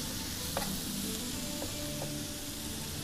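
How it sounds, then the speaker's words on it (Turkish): Carrots sautéing in a pan alongside diced chicken give a soft, steady sizzle and frying hiss, quiet and continuous, with a few faint stirring clinks. "Havuç da güzelce bir şekilde kavurmaya, sotelemeye başladı."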